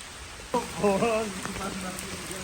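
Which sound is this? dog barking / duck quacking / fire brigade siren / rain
rain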